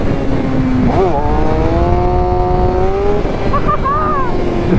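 A 2019 Suzuki GSX-R 600 sport motorcycle rides on the highway, its engine droning loud and close with wind rush, pitch holding steady then shifting up as the rider changes speed.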